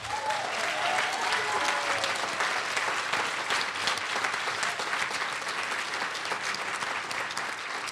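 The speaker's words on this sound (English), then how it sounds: "can you please also give a round of applause to our servers from Local 25?" Sustained audience applause at a housing forum celebration dinner, thanking the servers; dense, steady clapping from a large crowd fills the whole stretch at an even, loud level with no speech over it.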